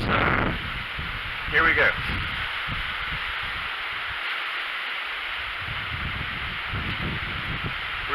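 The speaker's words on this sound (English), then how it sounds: "I was just going to show you some of the wind that we're experiencing right now" Hurricane Ian squall winds rush steadily through leaves, a loud, continuous broadband roar with gusty swells. A voice speaks briefly at the start.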